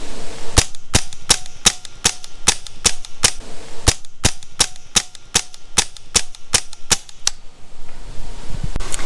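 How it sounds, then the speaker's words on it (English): A semi-automatic Crosman DPMS air gun fires about seventeen sharp, loud cracks in quick, fairly even succession over roughly seven seconds, then falls silent. The shots are close and there is no talking. "now that is a big help when you're shooting a semi-automatic air gun like this one."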